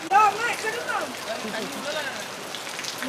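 Quiet, steady patter of rain on a surface in Kanyakumari, Tamil Nadu, with a brief voice near the start.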